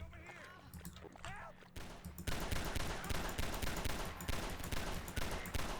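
Rapid bursts of gunfire and shots from a video game, dense and loud, with a voice talking over the start before the firing swells and continues steadily.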